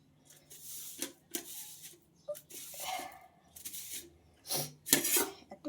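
Fried carrot chops being set one by one onto a plate, with a series of light clinks, scrapes and soft knocks of utensils and food on the dish, close and irregular, no talk.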